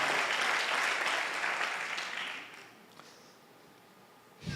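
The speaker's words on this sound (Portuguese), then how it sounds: "Pode dar mais um aplauso ao Senhor." Congregation applause during a church sermon, loud at first and steadily tapering off into quiet over a few seconds, with a brief small burst near the end.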